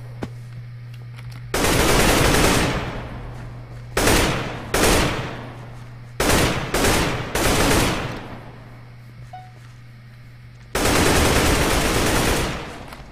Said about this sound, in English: That guy's taking out people with the AK.